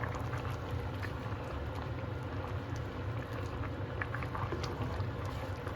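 Chicken Alfredo soup with Parmesan boiling steadily in a pot, a continuous dense bubbling and low rumble that stays even throughout, fairly close with no talk over it.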